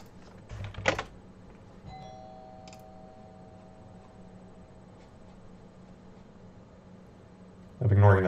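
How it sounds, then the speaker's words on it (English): A doorbell chime rings once at moderate distance, its tones fading slowly, between louder thumps and handling knocks in a quiet room. "I'm ignoring that doorbell if you heard that,"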